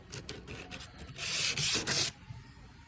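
Plumbers sanding tape rasps along the edges of a car's body panels in short rubbing strokes, then a longer, louder burst of sanding before it drops back to quiet.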